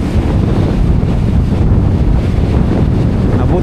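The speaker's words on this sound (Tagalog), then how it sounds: "Ah, laki ng alon ng banda oh." Strong typhoon wind blasts a shoreline in Dinahican, Infanta, Quezon, with big waves surging beneath as one continuous, loud, rumbling roar that heavily buffets the microphone.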